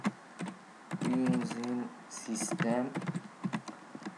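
Fast typing on a computer keyboard while writing C# code, steady clicky keystrokes running under someone speaking in French.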